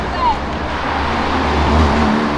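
A car engine hums and swells nearby as a vehicle rolls past, with a brief voice near the start and steady road noise throughout.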